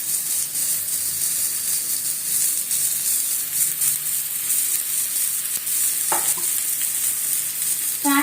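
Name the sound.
poha thalipeeth frying in oil on a hot griddle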